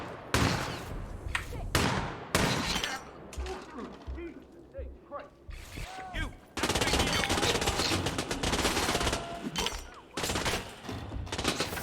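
Bursts of video game gunfire in Hitman 2, rapid automatic volleys starting and stopping, loudest in a long stretch late on, with a player talking between shots.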